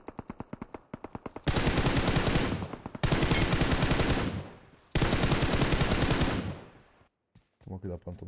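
Automatic gunfire in the mobile battle-royale game PUBG Mobile: rapid bursts of shots at first, then three long, loud sustained volleys, each a couple of seconds, with brief gaps and softer sounds near the end.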